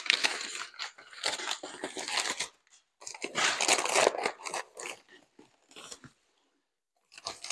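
Crinkly paper rustling and tearing in bursts, close up, with short pauses between handfuls as the paper packaging of a vinyl record shipment is pulled apart.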